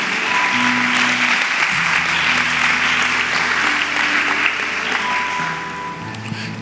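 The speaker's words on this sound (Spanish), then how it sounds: "Dale fuerte el aplauso a Dios" A church congregation claps loudly and continuously in praise to God, with sustained low musical tones held underneath the applause.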